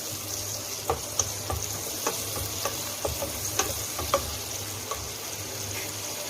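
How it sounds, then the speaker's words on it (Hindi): Onions sizzle and crackle in hot oil, a steady frying hiss dotted with small pops and spits, moderately quiet and close. "प्याज हमारी फ्राई हो रही है।"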